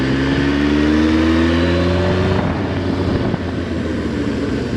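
A loud Suzuki Bandit 1200 motorcycle engine from 1996 revs high and then drops off, its pitch sliding down as it settles into a rough idle.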